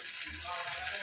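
Oil sizzles in a kadhai on a gas stove, a soft steady crackling hiss heard close, with a faint low voice underneath.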